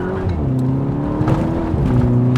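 A VW Golf GTI accelerates hard from a standstill, its engine note rising steadily and loud up close with a brief shift partway through, no talking over it.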